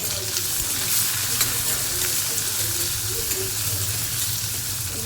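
Onions with crushed garlic and curry leaves fry in a pan, a steady dense sizzle with continuous stirring scrapes running throughout, close and fairly loud, with no talking.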